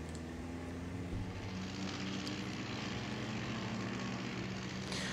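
A steady, droning propeller plane engine in a video game hums continuously at moderate distance, with low rumbling tones and no voices.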